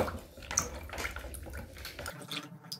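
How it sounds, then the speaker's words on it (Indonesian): A spoon stirring a watery jelly mixture in a glass for homemade water jelly candy: quiet liquid swishing with small clinks and drips, close up, no talk. "ini kita aduk-aduk aja dengan sendoknya tadi"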